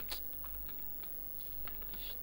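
Keystrokes on a computer keyboard while a command is entered in an Ubuntu terminal, a sparse run of light clicks, fairly close, under a steady hum with no talking.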